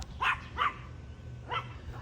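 Dogs at home, including a big brown dog, let out three short barks at moderate distance over a low background rumble, with quiet gaps between them.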